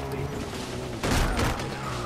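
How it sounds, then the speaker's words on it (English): Gunfire in the video game Far Cry, a dense rattle of shots over steady background noise that swells into a louder burst midway, with no voices over it. "What are they shooting at?"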